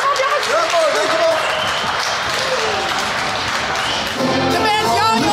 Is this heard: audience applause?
yes